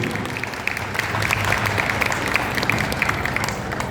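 Loud applause at a Sanatan Dharma temple gathering in honour of the sisters and daughters, many hands clapping in a dense, sustained burst that swells after the first half second, with scattered sharper claps.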